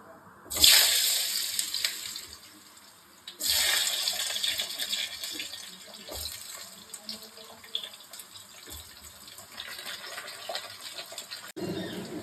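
Potatoes dropped into hot mustard oil with panch phoron and dried red chillies, giving a sharp burst of sizzling that fades and then flares again into a steady close frying hiss.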